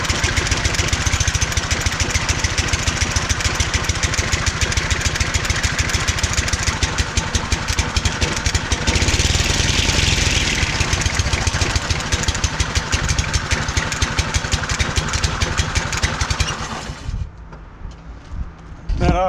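A Cub Cadet ST-100 walk-behind string trimmer with an automatic choke runs close and loud with a steady, rapid engine chatter, then cuts out abruptly near the end.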